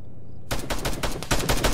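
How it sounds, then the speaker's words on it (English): In a military video game, .50 cal machine guns fire at a Kajman helicopter, starting abruptly after a brief quiet and going on as loud, rapid, close bursts with no talk. "Now these 50 cals firing at that Kajman"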